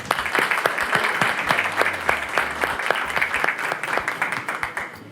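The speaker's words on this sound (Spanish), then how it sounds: "con ustedes, por favor, un gran aplauso para Francisco Moat." Studio audience applause welcoming a guest onto an interview program, loud, dense clapping from a crowd sustained for several seconds before easing slightly at the end.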